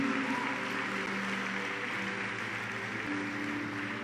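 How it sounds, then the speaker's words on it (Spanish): Congregation clapping during a Spanish-language church service, a soft, steady wash of applause with a sustained tone from music or an organ underneath, fairly distant and even throughout. "Dale un aplauso al Señor Jesucristo."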